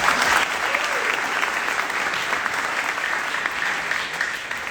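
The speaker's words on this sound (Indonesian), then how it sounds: "Tepuk tangan." Audience at an organisation's inauguration in Bali claps steadily throughout, a dense sustained wash of applause, loud and close, with no pauses.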